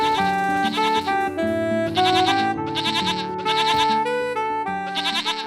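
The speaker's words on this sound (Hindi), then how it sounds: "अरे ये देखो, बकरियों की आवाज आ रही है।" Several goats bleat in repeated loud, wavering calls, one after another, close by and with no talk over them.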